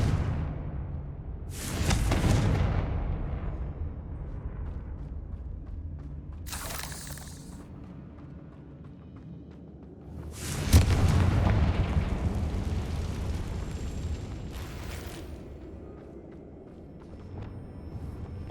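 Explosive spell blasts from Confringo in Hogwarts Legacy, several loud booming bursts spaced a few seconds apart, each with a crackling tail, over a low continuous rumble.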